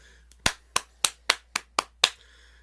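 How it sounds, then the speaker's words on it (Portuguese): A single person claps hands seven times in a steady rhythm, each clap sharp and close, alone with no talk. "Isso são os meus aplausos"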